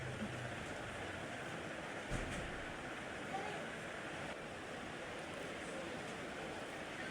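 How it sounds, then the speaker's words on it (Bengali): Battered water lily fritters fry in hot oil, a soft, steady crackling sizzle that runs evenly throughout at low volume. "চামচের সাহায্যে আমি ওই ব্যাটারের সাথে খুব ভালো করে এপিট ওপিট মিশিয়ে সোজা তেলে ফ্রাই করে নেব"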